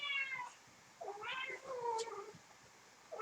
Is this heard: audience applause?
no